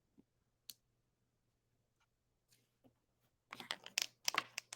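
Clicky keystrokes of someone typing on a computer keyboard, a few isolated taps at first and then a dense, faster burst of keypresses near the end, close and fairly quiet with no talk over them.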